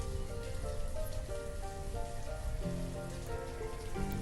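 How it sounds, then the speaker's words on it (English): Steady rain falls in the video game Banished, a dense continuous patter on surfaces with soft tonal ambient music underneath, even and unbroken throughout. "In year 3 it's still raining."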